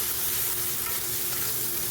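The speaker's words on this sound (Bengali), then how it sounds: "ভালো করে কষিয়ে নিতে হবে মশলাটা দিয়ে" Spices with salt and turmeric sautéing in a pan for a bottle gourd and hilsa fish head dish, a steady broadband sizzle and hiss that stays even and close throughout, with no talking.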